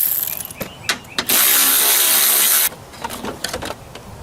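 A hand ratchet clicks while loosening a 10mm battery bracket bolt on a Honda CR-V 2.4, close and crisp, with sharp separate clicks around a steady whirring stretch of rapid ratcheting in the middle.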